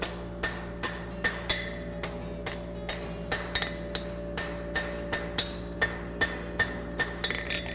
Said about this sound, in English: I'm using the round side of my hammer right there.